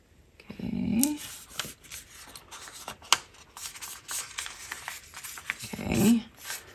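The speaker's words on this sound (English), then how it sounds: "now we're just going to fold both ways on the score lines, just nice and gentle" Paper card is folded gently along its score lines, giving soft rubbing and crinkling sounds with light shuffling, close by and fairly quiet.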